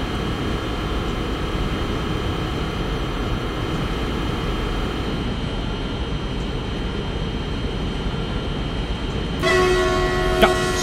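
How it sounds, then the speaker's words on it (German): Train horn sounding in Train Simulator on the Moselle line at night, a short blast with bright harmonic tones arriving near the end over a steady broadband rumble of the moving train. "Ja, Signalhorn funktioniert"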